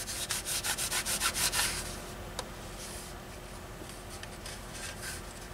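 Sandpaper scrubs against a plastic model B-47 Stratojet kit in quick, even back-and-forth strokes, loud and close, then shifts to slower, softer rubbing.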